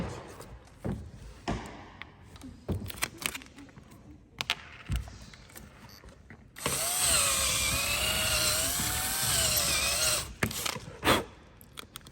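A power drill bores into a Volkswagen Saveiro pickup during a car sound system install, whining steadily for a few seconds with a wavering pitch, with tapping and handling noises and people talking around it.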